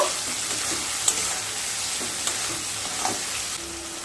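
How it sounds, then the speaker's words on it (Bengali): Banana-stem ghonto with grated coconut is stirred in a pan, giving a steady close hiss of frying with occasional faint scrapes, with no talk. "নারকেল কোড়া দিয়ে আবারও খুব ভালোভাবে মিশিয়ে নেব।"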